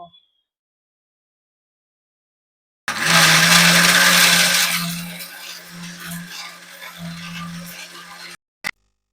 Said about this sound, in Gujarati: આ બંને વસ્તુ સરસ એવી પીસાઈ જાય પછી તેમાં આપણે રાજગરાનો દરદરો પાવડર નાખી દેશું।